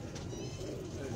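Pigeons at a rooftop loft coo steadily in low soft murmurs, a continuous close burble with faint background noise throughout.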